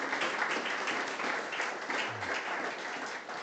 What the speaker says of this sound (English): I'd just like to everybody else to give a hand of applause to Andris Apes